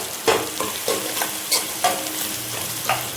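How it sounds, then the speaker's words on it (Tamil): Onions, shallots, cinnamon and cloves frying in a pan while being stirred, a steady sizzle broken by about seven scraping strokes of a spoon in an uneven rhythm, close by. "2 பெரிய ஆனியன் ப்ளஸ் கொஞ்சோண்டு சின்ன வெங்காயம், அப்புறம் பட்டை லவங்கம் இதெல்லாம் போட்டு நல்லா ஃப்ரை பண்ணிவிட்டு"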